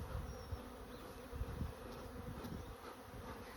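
Honey bees swarm and buzz steadily around an open new hive during its first spring inspection, a dense, close, continuous drone with faint thumps of handling underneath.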